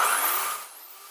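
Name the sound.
power tool running on portable power station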